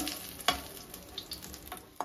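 Vegetables with spices sizzle quietly in a pan for shukto, a Bengali dish, with soft scraping clicks from stirring and a few sharper taps.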